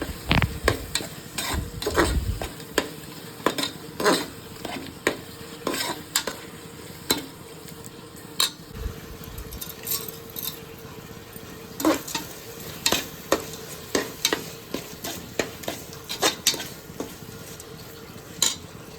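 A spoon stirs coriander and chili powder as they sauté in a pan for brinji rice, with repeated scraping strikes against the metal over a low, continuous sizzle.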